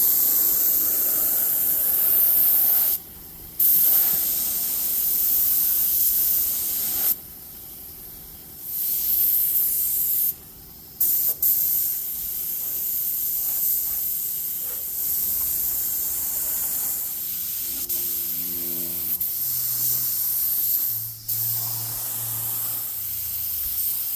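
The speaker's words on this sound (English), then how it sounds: "I'm gonna just spray some epoxy primer on them." Steady hiss of a spray gun laying epoxy primer onto 1969 VW bus body panels, continuous bursts broken by short pauses, with faint shop clatter in the background.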